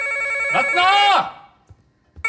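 A telephone bell rings indoors with a steady tonal trill that briefly overlaps a voice, then stops, followed by quiet room sounds and the start of another ring.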